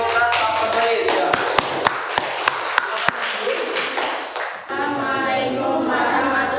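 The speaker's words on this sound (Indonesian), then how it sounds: "beri tepuk tangan untuk ras Kaukasoid ya" A classroom gives a brief round of scattered claps, a handful of sharp, separate hand claps heard under steady voices and room chatter.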